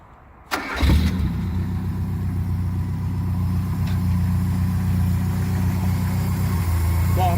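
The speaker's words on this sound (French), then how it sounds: "et je vous allume le moteur" A Peugeot 504 Dangel 4x4 rally car engine cranks and catches after a brief quiet moment, then settles into a steady, rumbling idle close by. A voice is briefly heard near the end.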